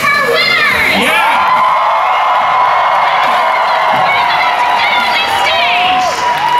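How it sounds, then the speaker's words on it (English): A crowd at an evening costume contest cheers and shouts loudly for the winners, a sustained wall of whoops and high children's voices filling the whole stretch without a break. "Do we have a cheer for our winners?"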